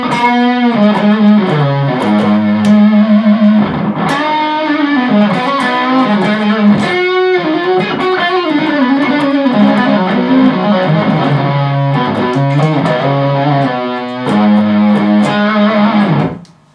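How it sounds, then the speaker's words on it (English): Electric guitar played through a fully digital fuzz pedal with the knob and volume turned up, giving a thick, buzzy, saturated tone over sustained notes and riffs, loud and continuous with no talking. "it's kind of like a fuzz, and it's totally digital"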